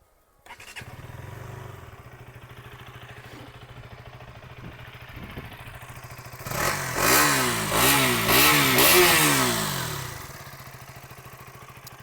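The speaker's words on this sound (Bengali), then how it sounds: "এবার শুনুন এই বাইকটা যে এক্সস্ট সাউন্ড সেটা আমি আপনাদেরকে শুনিয়ে দিচ্ছি।" A 2026 KTM Duke 200 motorcycle in Atlantic Blue idles with a steady low hum, then its exhaust is revved hard several times in quick succession, each loud rising blip falling back before the engine settles to idle again.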